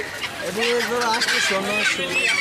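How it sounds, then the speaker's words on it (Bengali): Fayoumi chickens clucking at a crowded poultry market in Sirajdikhan, Munshiganj, a steady run of close, overlapping clucks and squawks with some background chatter. "এটা কি মুরগি ফাউমি ফাউমি এগুলি কি ডিমের জন্য"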